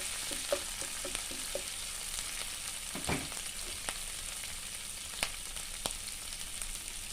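Cumin paste fries in a pan with a constant soft sizzle, broken by a few sharp clicks and scrapes of a spoon stirring it.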